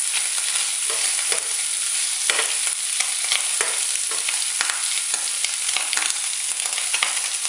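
Shrimp sear in a hot pan for Provençal-style pasta. A bright, dense sizzle runs continuously and fairly loud, dotted with small pops and spatters, with no voices.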